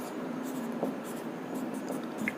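Chalk or marker scratches faintly across a classroom board as a fraction is written, short strokes heard against a low steady room hum during a maths lesson.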